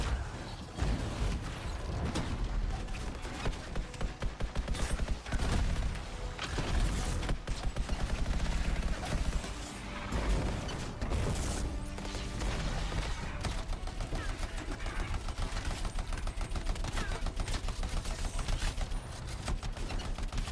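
A really large gun firing in the video game Anthem, heard as dense, rapid bursts of heavy shots mixed with mechanical clanks and crashes that keep going for a long stretch.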